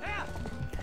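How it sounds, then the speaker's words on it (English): Goat hooves clip-clop in The Legend of Zelda: Twilight Princess, a brief quick patter of small steps heard faintly, with a short tonal chime at the start. "Oh, yeah, them goats."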